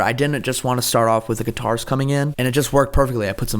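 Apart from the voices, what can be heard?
No everyday noises stand out.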